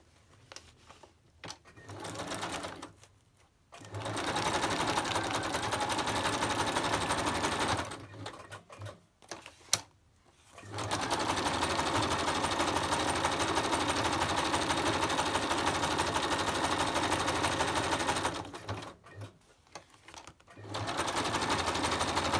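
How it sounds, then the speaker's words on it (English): A sewing machine stitches a pocket onto a decorated craft page, running in long steady bursts close by with short pauses between runs. "I'm going to stitch that on there."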